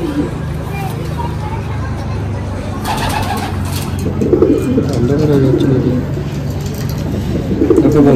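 Golden Kamagar pigeons cooing in a loft, low warbling coos repeating under people talking and background chatter, close by.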